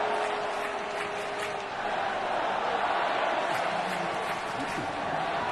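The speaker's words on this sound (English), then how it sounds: "Crowd trying to help him out." A baseball stadium crowd at a Dodgers at Giants playoff game roars in a dense, steady wash of cheering and noise that fills the whole stretch at a constant level.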